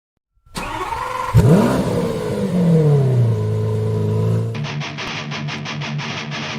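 A NASCAR truck engine in iRacing at Homestead roars up loudly and sweeps through a revving pass, then settles into a steady mid-pitched drone. No voices are heard.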